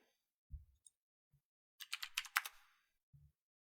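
A burst of quick keystrokes on a computer keyboard, about a second of rapid clicky typing, close and fairly quiet, framed by a few soft isolated taps before and after.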